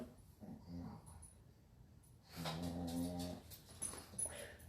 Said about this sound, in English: Dog cat fight.